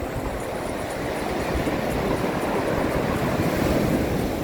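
Ocean surf at a beach in Dipaculao, Aurora: a continuous loud roar of breaking waves mixed with wind buffeting the microphone, steady throughout without voices.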